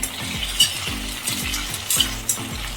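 Ivy gourd stir-fried with garlic in a pan gives a continuous close sizzle, with a rhythmic low thumping beneath it and occasional sharp utensil clicks, all without speech.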